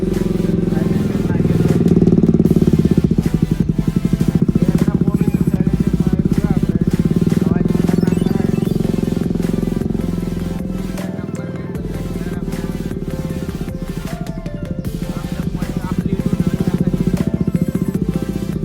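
A motorcycle engine runs at idle with a steady, rapid thumping beat, close and loud, dipping slightly partway through before picking back up, with some voices faintly underneath.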